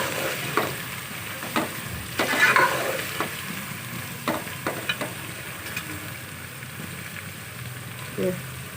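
Onions sizzle steadily as they brown in hot mustard oil in a pan while a spoon scrapes and stirs at intervals, with brief clanks against the metal.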